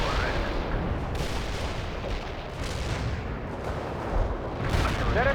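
An artillery barrage in the real-time strategy game World in Conflict thunders continuously, with rolling booms and overlapping shell blasts that swell louder near the end.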